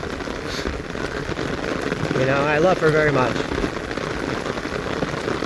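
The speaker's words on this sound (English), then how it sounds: "Oh my God, it is really raining." Heavy rain pours down outdoors with a dense, constant patter close by, while a person talks over it for a few seconds in the middle.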